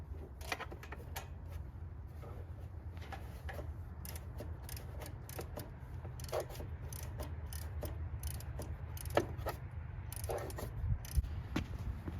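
A ratchet with a 5/8 inch spark plug socket clicks in repeated short bursts while new plugs are threaded into a lawn mower engine, close and soft over a low steady hum.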